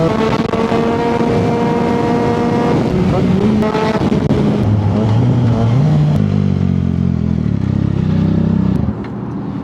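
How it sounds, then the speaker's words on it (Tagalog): An Audi R8 sports car engine rumbles and revs nearby at a gas station, pitch climbing and dropping through several surges before cutting off, with people talking over it. "Ganda ng tunog nitong Audi. Audi R8 ba to?"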